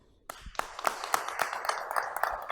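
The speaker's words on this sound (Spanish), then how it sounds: "lo recibimos con un aplauso" At a book launch, an audience welcomes a speaker with scattered, distinct claps. A few hands start sharply and settle into a light, irregular round that grows a little fuller.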